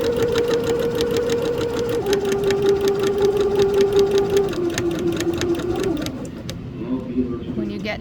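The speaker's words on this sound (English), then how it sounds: "And then you're going to continue to sew." A sewing machine stitches fabric with a fast, even needle rattle that runs steadily at close range, its motor pitch stepping down a few times before the stitching slows and stops.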